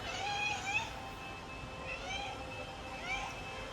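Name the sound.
cat meowing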